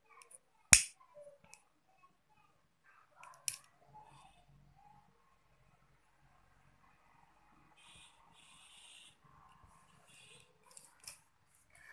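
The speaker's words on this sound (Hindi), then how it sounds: "यहाँ पे मैं फिर से काट रही हूँ, और ये जो कॉर्ड था मैंने काट दिया था" Scissors cut through macrame cord in a few sharp, isolated snips separated by quiet stretches, with faint soft handling rustles in between.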